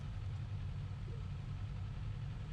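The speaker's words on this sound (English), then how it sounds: "It's a beautiful exhaust." A 2019 Kawasaki Z400 motorcycle idles through its exhaust, giving a low, even, quiet rumble that holds steady throughout with no voices.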